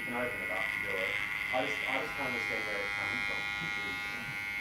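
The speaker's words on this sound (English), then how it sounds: "to as short as the clipper will allow me, the clipper comb, sorry, and work our way back" Electric hair clippers buzz steadily through a classic pompadour cut at a barber's chair, a constant close hum running beneath someone talking throughout.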